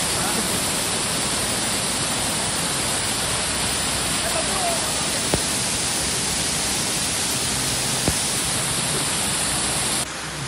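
A waterfall in misty hill country in Dapoli, Konkan, gives a steady, loud broadband rush of falling water that runs unbroken throughout, with a couple of faint clicks on top.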